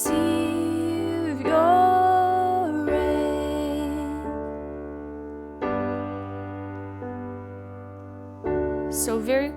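Soft piano triad chords in a simple, quiet progression, struck twice a measure and left to ring, with small pauses between changes.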